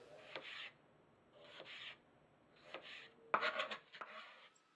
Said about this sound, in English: So just chop up your tomato and get it ready.